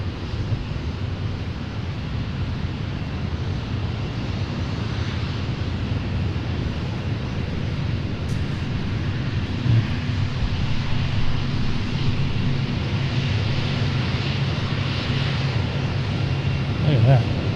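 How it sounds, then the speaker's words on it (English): A KC-135 tanker taxis at the Seafair air show, heard as a steady, distant jet rumble mixed with wind buffeting the microphone, with no talking. "KC-135 is on the move."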